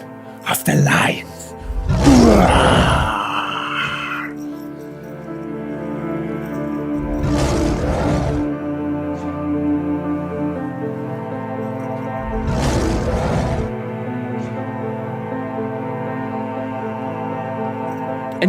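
Voices imitate lions roaring in three loud, rough bursts spaced several seconds apart, with steady sustained tones underneath between them.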